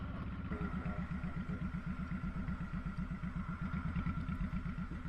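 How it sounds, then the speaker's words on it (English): Motorcycle engine idling close by with a steady, pulsing mid-range chug and light mechanical clatter, sustained throughout as bikes pull up. "You'll see some more bikes pulling up"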